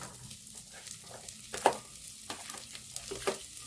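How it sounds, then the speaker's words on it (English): Onions tipped into a hot frying pan for an African dish, giving a steady close sizzle with a few sharper crackles and scraping stirs along the way, and no one talking. "at this point I can add my onions"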